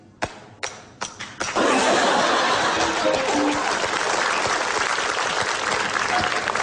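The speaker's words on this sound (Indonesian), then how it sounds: "semua orang pasti tepuk tangan" A studio audience at an Indonesian comedy show breaks into applause: a few separate claps come first, then full, loud clapping that holds steady to the end.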